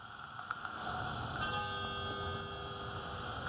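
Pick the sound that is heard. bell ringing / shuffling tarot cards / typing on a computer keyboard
bell ringing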